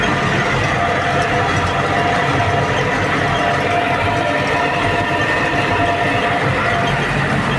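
A YuMZ tractor engine running at about 1500 rpm, heard from inside the cab during baling work: a loud, steady, continuous drone and rumble with no breaks throughout.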